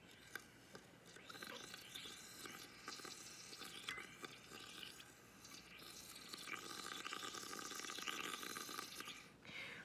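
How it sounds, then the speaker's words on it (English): Air blown through a straw into a cup of blue paint, a steady bubbling, gurgling fizz that carries on close up and alone for the whole stretch, growing slightly louder toward the end. "So I put the straw in and I'm blowing bubbles."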